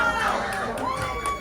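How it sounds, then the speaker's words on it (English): Supportive audience at a stand-up comedy show cheering and shouting in a steady, dense roar that fills the whole moment, with voices calling out over the crowd noise. "This is a supportive crowd."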